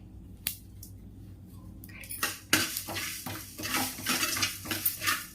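Whole spices, including cinnamon, dry-roast on low heat for a fish curry masala, starting quietly with a couple of light clicks, then busy metallic spatula scraping and clinking against the pan, with no voices.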